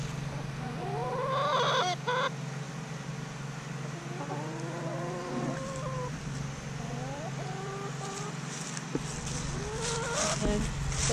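Chickens clucking on a homestead in cold weather, several birds giving rising and falling clucks and calls over a low steady background hum, without talk.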